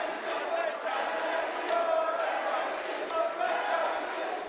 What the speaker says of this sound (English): Crowd rallying behind M80.